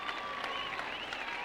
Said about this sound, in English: clap your hands for Kim Bratz